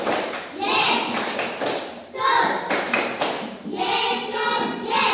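A group of children clap in rhythmic bursts during a classroom clapping chant, their hands striking in short patterned volleys between shouted chant words, loud and close.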